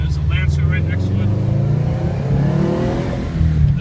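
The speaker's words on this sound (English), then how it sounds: "Exhaust sounds beautiful." A 2012 Subaru WRX Turbo engine pulls steadily with a loud, continuous low exhaust drone as it accelerates, heard from inside the car with a voice talking over it throughout.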